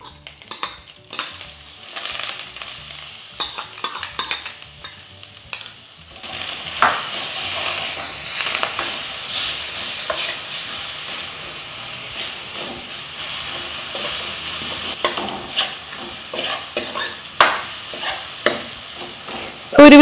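Curry leaves and crushed dried red chillies hit hot oil for a Kerala dal curry tempering, a loud continuous sizzle and hiss that starts after a quiet stretch and keeps crackling with occasional stirring clatter.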